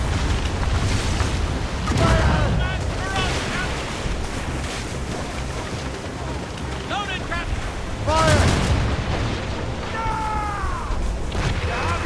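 Ship cannons fire during a naval battle in the video game Assassin's Creed Rogue, with two heavy booms several seconds apart over a constant roar of ocean waves and wind, plus scattered whistling and crackling effects.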